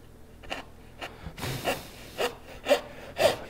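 A hand saw cuts a dovetail in wood with a steady rhythm of rasping strokes that grow louder and more regular, each stroke a distinct close scrape.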